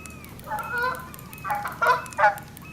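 A goose honks in Fishing Planet on the San Joaquin Delta, giving four short nasal calls spaced over a few seconds, loud against a quiet outdoor background.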